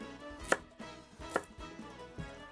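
Carrots and other vegetables are coarsely chopped on a board for a lamb stew: two sharp, close knife strikes about a second apart, then a softer third.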